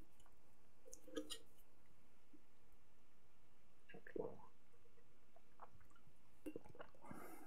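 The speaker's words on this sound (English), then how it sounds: "Ah, drippy drip." Water drips onto a surface at an electronics workbench, a few soft, isolated drops spaced several seconds apart against a quiet background.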